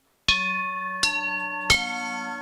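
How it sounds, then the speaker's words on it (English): Three bright bell-like chime tones in the NBC chimes style, struck one after another at slightly uneven intervals, each ringing on and overlapping the next in a clean, sustained decay. "Did you know in ancient Japan they actually had the NBC chimes?"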